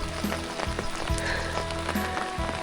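Heavy rain falls steadily in a rural farming area in Laos, a dense continuous hiss with scattered sharper drops and no talking.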